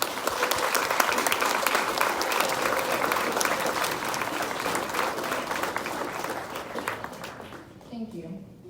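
An audience at a National Junior Honor Society induction ceremony gives sustained applause for new members, a loud crowd of clapping hands that tapers off near the end, with a voice faintly heard at the close.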